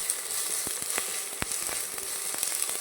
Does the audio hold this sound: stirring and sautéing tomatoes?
yes